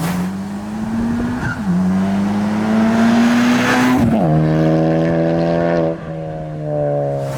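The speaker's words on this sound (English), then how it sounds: "The exhaust actually sounds really good on this thing." Straight-piped Honda Civic Type R FK8 with catless downpipe and resonator delete, tuned to about 400 whp with rolling anti-lag, droning loudly and steadily while driving, its pitch climbing then dropping back at a shift.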